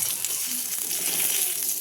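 Bay leaf tempering in hot oil for a Bengali katla fish curry with ridge gourd and potato, giving a steady, dense, close sizzle that holds evenly throughout.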